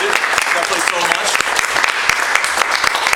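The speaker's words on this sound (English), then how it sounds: "So I'd like to give a round of applause to my host." Audience applauding a host at a promotional marketing show: dense, steady clapping from a crowd filling the whole stretch, loud and continuous without a break.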